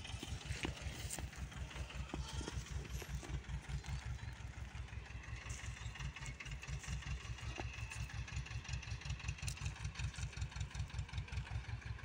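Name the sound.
tractor engine running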